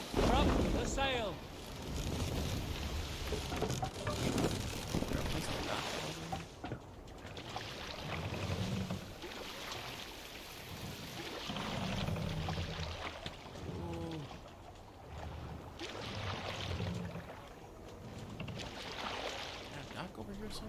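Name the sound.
Viking longship sailing on water, from video game Assassin's Creed Valhalla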